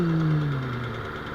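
Small lawn mower engine with a thermal choke idling at low RPM just after a pull-cord start, a steady close, fairly loud hum that eases slightly lower in pitch over a brief moment, with no talk.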